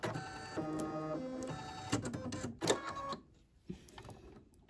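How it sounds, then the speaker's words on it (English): An embroidery machine stitches a mug rug in the hoop, making rapid whirring, rhythmic mechanical chatter that stops after about three seconds, followed by quieter clicks and handling. "I'm going to let this stitch a couple stitches, and then I'm going to stop the machine and trim it."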